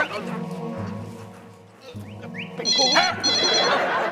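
A phone rings in repeated electronic bursts, with voices and bird-like chirps mixed in around it.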